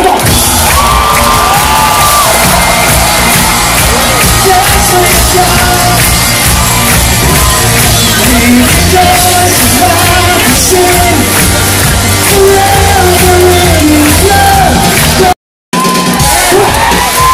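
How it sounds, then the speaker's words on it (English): Concert crowd at a live worship show in a church screams and cheers loudly and continuously, a dense roar of whoops and yells with a brief dropout near the end. "So I want you guys to learn how to scream as loud as you can right now."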